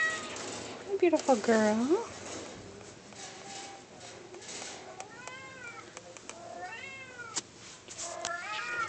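Siamese cat meowing several times, a clear rising meow early on followed by softer, higher chirping meows, close by, while someone talks softly to it.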